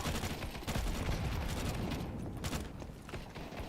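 Rapid bursts of video game gunfire crackle densely and loudly throughout, from a gun poorly suited to close combat, with mechanical clanks mixed in and no talking.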